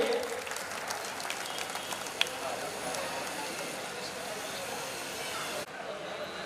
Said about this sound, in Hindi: एक बार जोरदार ताली हमारे क्षेत्रीय अध्यक्ष महोदय के लिए।